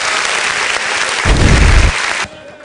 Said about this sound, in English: A round of applause for our high neck.